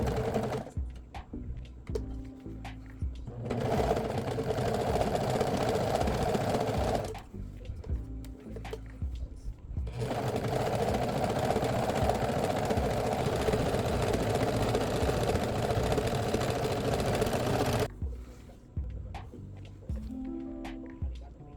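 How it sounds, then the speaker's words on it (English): A serger or sewing machine runs along raw fabric edges of ruched skirt pieces in long, steady motor-driven runs, several seconds each, separated by quieter pauses with small handling noises. "Now go ahead and serge or zigzag the raw edges along all the sides"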